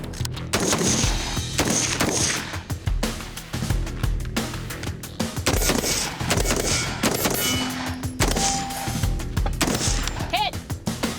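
Loud rifle gunshots at an outdoor shooting range, sharp reports fired in quick succession and some overlapping, with brief voices and a beep among the shots.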